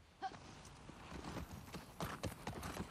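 A horse chases at a gallop in The Last of Us Part II, its hooves clip-clopping in quick irregular bursts, fairly close, over a quiet game ambience with no talking.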